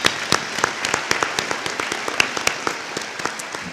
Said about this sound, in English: So I think we all should give a round of applause to the man that made this possible